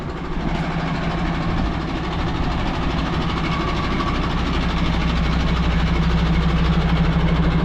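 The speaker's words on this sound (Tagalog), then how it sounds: "Ang ingay itong sasakyan na to." A noisy custom vehicle's engine runs on the road, giving a loud, steady, continuous rumble that lasts the whole stretch with no voices over it.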